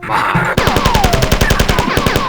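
Rapid, evenly spaced automatic gunfire in the classic Marathon video game, loud and close, a steady rattle of about twenty shots after a brief ambient opening, with a descending whine running beneath.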